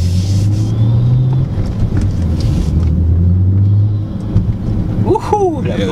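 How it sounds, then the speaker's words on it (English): A 400-wheel-horsepower car engine rumbles loud and close with a steady low drone and shifting pitch, while people talk over it. "When it's revving, it's mad loud."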